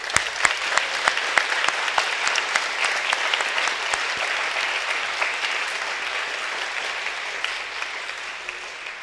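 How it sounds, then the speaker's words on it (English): Audience at a junior high school band spring concert applauds steadily, a dense wash of many hands clapping in a large room, sustained and even throughout. "can we give your parents, family, and friends a round of applause"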